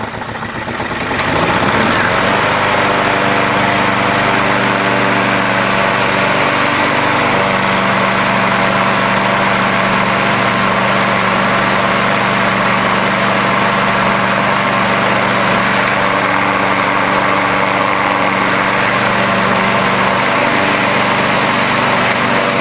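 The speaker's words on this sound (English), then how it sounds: "So here I go, my garbage pick lawnmower," A small Briggs lawn mower engine catches after a brief moment and roars loudly, revving unevenly before settling into a steady, close running drone.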